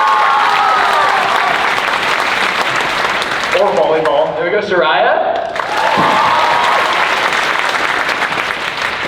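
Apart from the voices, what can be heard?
audience clapping for classmates at graduation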